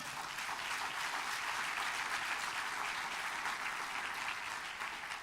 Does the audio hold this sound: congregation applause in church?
yes